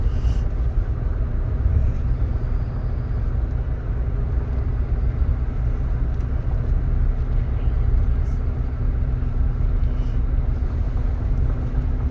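A 2000 Buick Park Avenue climbing a hill, heard from inside as a steady, low engine and road rumble at an even level throughout, with no talk.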